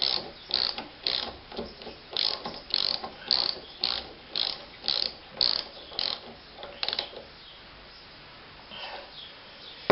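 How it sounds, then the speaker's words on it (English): A 3/4-inch SAE ratchet socket wrench turning on a lawnmower's cylinder reel: sharp, close ratcheting clicks in regular repeated strokes, then a few quieter clicks as it trails off. "it's just a matter of using the appropriate socket, which in this case is a 3/4 SAE"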